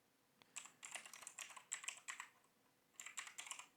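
Computer keyboard typing in quick irregular bursts of crisp clicks, close and fairly quiet, with a short pause midway and no talking.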